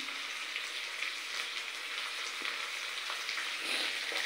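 Fish sizzles in oil in a pan over a high flame, a dense steady crackling hiss that runs unbroken and close throughout, with a few brief stirring ticks.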